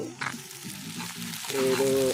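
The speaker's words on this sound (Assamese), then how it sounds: "আদা ভাজি" Ginger being fried outdoors at a New Year's Day picnic, a steady close sizzle with stirring scrapes, growing louder and fuller toward the end.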